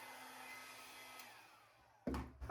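A hair dryer blows air across wet resin and pigments, a steady whoosh that fades before a louder close burst of blowing at the end.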